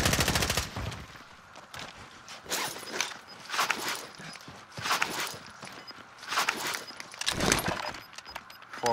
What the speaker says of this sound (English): Shoot comes from your right as well.